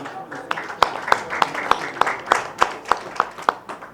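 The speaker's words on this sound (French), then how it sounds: "je vous prie d'applaudir et d'accueillir bien fort Mouska." Sparse audience clapping at a press conference welcoming Mouska, a handful of distinct, evenly spaced sharp claps standing out over a low murmur of room noise and faint talk.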